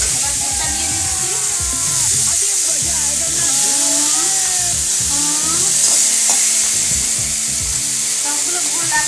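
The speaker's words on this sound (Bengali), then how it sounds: "এবার দুধটা দিয়ে দেবো, এবার দুধটা দিয়ে দিচ্ছি।" Loud, steady sizzling and stirring of mango chutney in a pan as milk is poured in, a continuous close frying hiss throughout.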